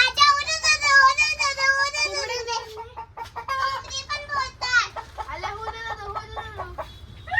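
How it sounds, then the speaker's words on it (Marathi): Three roosters heard close up with repeated harmonic crowing and clucking calls, one after another, loud and fairly continuous over a faint rural background. "तीन कोंबडा आहे तीन कोंबडा"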